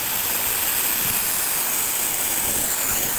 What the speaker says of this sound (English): Carefully open the blow down,